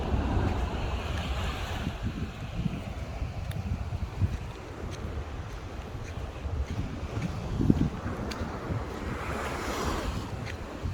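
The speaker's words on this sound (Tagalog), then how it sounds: "Lakas ng alon" Strong waves heard from a boat near Crocodile Island, a continuous rolling wash of surf mixed with gusty wind buffeting the microphone, with a few louder splashes surging through.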